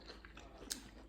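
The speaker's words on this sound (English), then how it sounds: "I want to hear some nice crunch." A single crisp crunchy bite into a fried oyster mushroom stands out near the middle, close up and quiet, surrounded by faint chewing sounds.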